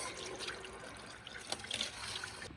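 Water gushes hard and steadily from a camper tap, a loud continuous rush with no voices.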